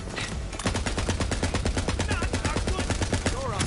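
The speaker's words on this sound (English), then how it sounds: "I don't know what the fuck I'm shooting at there" Rapid automatic gunfire in a shooter video game rattles loud and close in a dense, continuous burst, with a voice talking faintly underneath.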